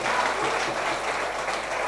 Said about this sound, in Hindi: बजाओ जोर से ताली